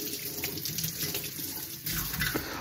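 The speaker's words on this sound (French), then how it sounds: "On va rincer notre concombre." A tap runs as a cucumber is rinsed under it, giving a steady splashing stream of water into a sink with small shifts in tone as the vegetable moves through the flow.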